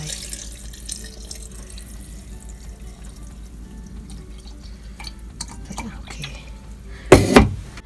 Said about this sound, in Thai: เทน้ำซาวข้าว